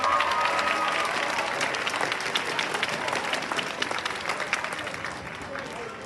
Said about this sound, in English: And another round of applause for the Galaxy Advisory.